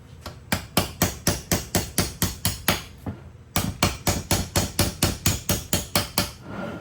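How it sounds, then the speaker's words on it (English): A hammer drives the pad retaining pins out of a ZL1 brake caliper on a 1969 Camaro: sharp, close metallic strikes in a steady rhythm, in two long runs with a short pause between, with no talking. "Take and drive these pins out."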